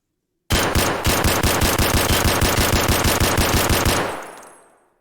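A modified SKS rifle in Escape from Tarkov fires in a rapid, even burst of about two dozen loud close shots over three and a half seconds, then an echoing tail fades out.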